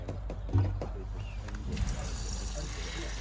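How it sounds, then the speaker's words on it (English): Sink waste water trickling out from a drain under a Vivaro campervan, a faint, steady dribble heard close up with a brief louder knock near the start. "Any water that goes down your sink will come out under here."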